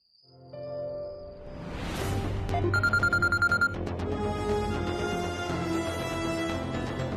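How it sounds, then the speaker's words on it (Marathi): A telephone rings indoors at night, giving a rapid burst of bright electronic trills over a low sustained musical drone, with no talking. "कुंदा फोन तर उचलत नाहीये, कट का होतोय फोन?"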